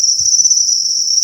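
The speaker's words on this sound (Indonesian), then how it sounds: "Dan itu jangkrik yang sedang bertelur." Honey crickets (jangkrik madu) chirp while breeding: a loud, steady, high-pitched trill that is close and continuous with no pause.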